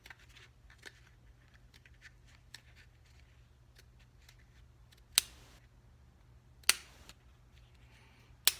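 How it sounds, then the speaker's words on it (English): Scissors snip through gasket material for a Norton Commando engine in short, scattered cuts, a few sharper crisp snips standing out against a quiet background hum. "These scissors aren't the best."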